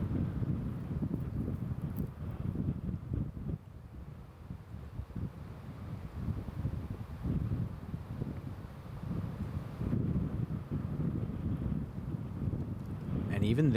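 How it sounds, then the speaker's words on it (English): Swirling, inconsistent wind buffets the microphone on a disc golf course at the Portland Open, a low rumbling gust that rises and falls under a commentator's voice. "you can see just how windy that is"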